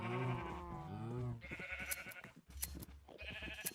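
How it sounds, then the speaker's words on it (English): Sheep bleat in Minecraft, a couple of wavering calls followed by several shorter bleats in quick succession, fairly quiet and with no talking. "There's like too many sheep right now."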